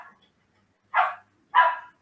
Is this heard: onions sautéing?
no